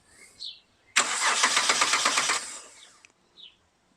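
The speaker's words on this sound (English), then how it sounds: "that'll deliver power directly to the starter, and hopefully it should spin" Starter motor on a Ford FG Falcon XR6 being cranked directly from the battery, a loud steady whirring spin lasting about a second and a half that stops abruptly, with faint clicks before and after.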